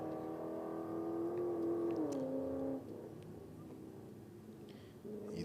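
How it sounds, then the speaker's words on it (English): Drag racing car engine at a championship drag strip, a steady loud harmonic drone that drops in pitch near two seconds and cuts back sharply near three seconds as the throttle lifts, then fades to a lower rumble. "He's out of the throttle early."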